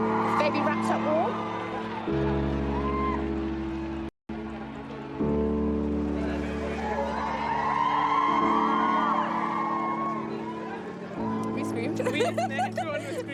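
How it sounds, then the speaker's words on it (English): A crowd gathered outside St. Mary's Hospital in London as the royal family emerges with a newborn, with whoops and yells rising over steady chatter and a low droning hum, shouts swelling loud throughout. "Everyone was screaming, trying to get the pictures and videos."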